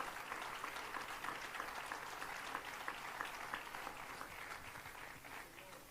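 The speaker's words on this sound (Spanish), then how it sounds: "Demos una ofrenda de palmas, hermano," Church congregation at a pastors' retreat service clapping together, a dense sustained round of applause from many hands, steady and moderately loud throughout.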